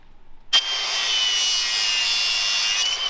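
A tool cuts through a plastic socket rail with a steady, continuous grinding rasp that starts abruptly and holds close and even to the end.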